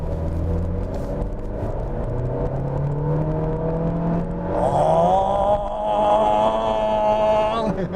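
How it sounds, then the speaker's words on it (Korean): A Honda HR-V with a 1.8 gasoline engine and CVT under hard acceleration: a steady droning engine note rising in pitch, then a sustained higher whine from the cabin, loud and close throughout. "급가속을 한번 해보겠습니다."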